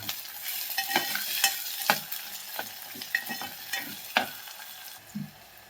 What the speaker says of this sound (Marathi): कांद्याबरोबर आपल्याला हा टोमॅटो पण भाजून घ्यायचा आहे व्यवस्थित.